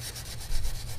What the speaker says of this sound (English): Tried a brass wire brush, didn't work, and now I just got a metal wire brush.